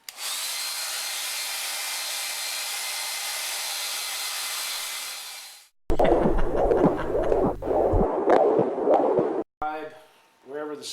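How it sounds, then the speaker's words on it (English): A hairdryer runs steadily for about six seconds while drying a painting on an easel, a loud broadband whoosh that then cuts off abruptly, followed by clattering handling noise and a short burst of speech. "I'm going to run the hairdryer anyway because it's our segue modus operandi."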